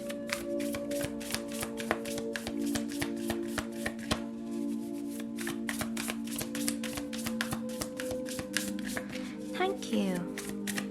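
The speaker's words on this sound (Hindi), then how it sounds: "तो चलिए शफल कर लेते हैं" Tarot cards shuffled continuously by hand, giving a rapid close patter of small flicks and taps throughout, with a voice talking softly underneath.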